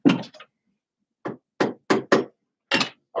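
A hammer taps a pin tack into upholstery fabric, giving sharp, close knocks: one at the start, then a pause, then five more in an uneven rhythm.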